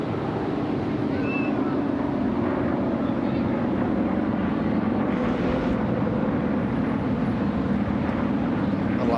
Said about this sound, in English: That old piston radial engine that they've got, the sound.